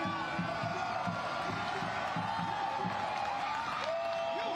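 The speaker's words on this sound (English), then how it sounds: "And the crowd there, you can feel the energy in the crowd." Crowd at an Orange County SC versus San Antonio FC soccer match, a faint, distant wash of cheering and chanting with rhythmic pulses, carried steadily in the background.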